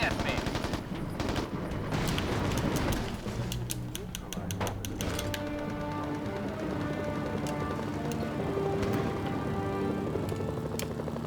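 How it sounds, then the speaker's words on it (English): Rapid machine-gun bursts and scattered gunshots from a video game fire close and loud, dense and overlapping, with mechanical clatter and tonal game sounds mixed in. "They're shooting at me."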